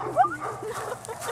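Dogs at a dog park on Pine Island give a short high whimper and yip near the start, then softer canine noises continue over a low background hum with faint voices.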